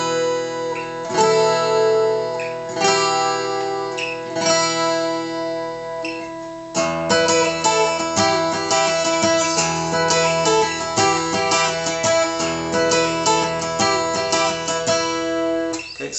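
Acoustic guitar playing a cover in double notes with open strings ringing, a steady run of sustained chords that shifts to a denser, brighter passage partway through, close and alone with no talking.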